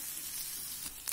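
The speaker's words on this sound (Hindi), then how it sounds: "ये प्याज डाल दिया इसमें, ये प्याज थोड़े से भुन जाए फिर मैं इसमें टमाटर डालूंगी।" Onions frying in a pan for a spicy cauliflower potato sabzi, a steady hiss of sizzling oil with a couple of small clinks toward the end and no voices.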